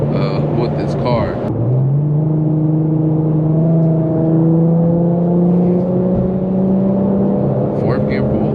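A tuned Infiniti Q50 engine revs and climbs steadily in pitch as it accelerates hard in fourth gear, loud and close, with a voice briefly heard at the start.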